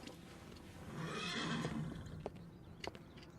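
A horse neighs in the video game Sherlock Holmes: The Awakened, a single drawn-out whinny rising and fading over a couple of seconds, followed by a few light hoof-like clicks, moderately close against a soft ambient background.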